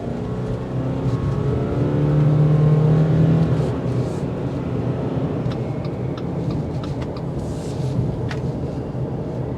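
A 2023 Subaru Forester Wilderness SUV drives along a road, with a steady engine drone and road rumble inside the cabin that swells briefly as it accelerates, then holds even.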